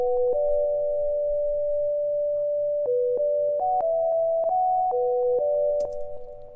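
A West Coast-style synth lead plays a melody of clean, non-overlapping notes that step crisply from one pitch to the next, sounding choppy and robotic, steady and upfront, with no voices.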